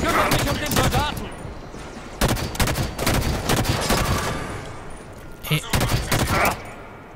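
Gunfire in the video game Halo 5: Guardians, with loud bursts of rapid shots in several clusters separated by short pauses. A voice briefly calls out between the volleys.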